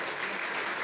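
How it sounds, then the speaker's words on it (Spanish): A church congregation claps in steady, dense applause that fills the space evenly for under a second, with no break in the clapping. "dele un aplauso grande de honra a nuestro Padre Celestial"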